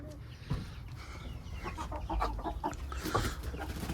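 Several chickens cluck and murmur close by, a busy overlapping chorus of short calls at moderate volume.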